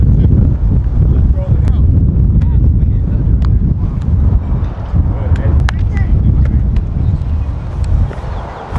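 Strong wind buffets the microphone with continuous low rumbling gusts, loud and close throughout, with faint voices in the background at an outdoor football quarterback practice.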